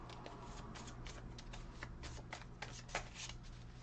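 Tarot cards being shuffled and drawn from a deck, a steady papery riffling with repeated soft flicks and slaps throughout, close and clear over a low background hum.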